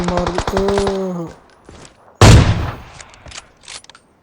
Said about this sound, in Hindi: गोलियां मार रहा है, गोली मार दी।